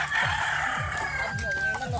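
A neighbour's chicken clucking in quick repeated bursts and crowing with a long high call, close by outdoors, with people talking and shouting around it.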